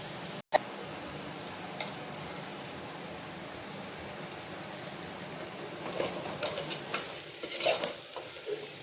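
Bay leaf and cinnamon sautéed in a pan for rice, giving a soft steady sizzle with a sharp knock near the start and a few scraping stirs toward the end, close and fairly quiet, no voices.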